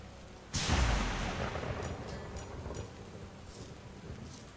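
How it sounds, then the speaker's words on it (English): A sudden loud thunderclap in the game Stoneshard bursts in, then rolls and rumbles away over a few seconds, with fainter crackles trailing behind. "That lightning noise, quite terrifying."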